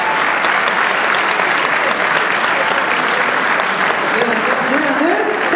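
Loud, sustained applause from a large audience at Disneyland Paris fills the space, dense clapping continuing steadily with a few voices faintly mixed in.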